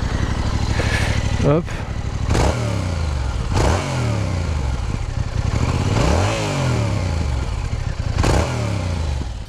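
A 2022 Yamaha R7 sport motorcycle starting up and revving hard several times, with loud rising and falling engine roars close to the microphone and a brief spoken word.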